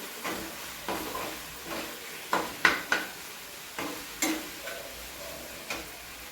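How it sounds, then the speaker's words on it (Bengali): Potatoes with turmeric being stirred in a pan, a series of spaced scraping strokes and light clatters of a spoon against metal over a faint sizzle, close, with no voices. "দিয়ে আবার একটু নাড়াচাড়া করে নিই"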